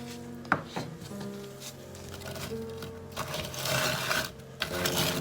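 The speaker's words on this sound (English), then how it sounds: "the spoon on the metal container is very annoying to hear" A spoon scrapes and stirs goat milk cold process soap mixture inside a metal container, producing a steady grinding rub with a few sharp knocks against the rim, close and fairly loud, with no speech over it.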